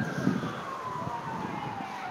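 An ambulance siren wails faintly in the distance in downtown Washington, D.C., a thin gliding tone over street rumble, with voices nearby.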